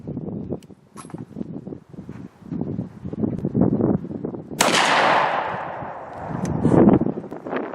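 A Derya MK12 shotgun fires one loud close blast outdoors, its boom and echo trailing off over a couple of seconds, amid rustling and handling noises and low voices.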